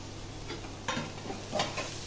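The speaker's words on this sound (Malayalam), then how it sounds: "കേവേജ് നന്നായി ഇളക്കി കൊടുക്കാം" Cabbage and vegetables are stirred in a frying pan with a soft sizzle, two scraping spatula sweeps standing out over the low hiss, close up with no voices.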